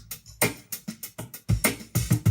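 Drum loop named Jammer Gyro with steady sixteenth-note hi-hats over punchy kick and snare hits, a tight, close, rhythmic groove playing alone at moderate volume.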